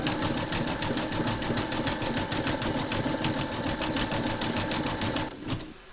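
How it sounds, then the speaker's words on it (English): An embroidery machine satin stitches red thread around a peppermint candy design, a rapid, steady mechanical chatter of needle strokes running close and continuous, then halting near the end. "We now come to the satin stitching around the peppermint candy at the top here."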